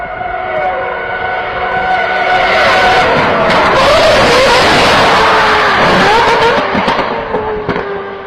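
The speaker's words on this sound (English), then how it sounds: "the Ferrari 458 GT3 added to the game" A loud Ferrari 458 GT3 race car engine in the Roblox game Driving Empire revs and roars, its pitch climbing and falling through gear changes, with a brief screech of tires near the end.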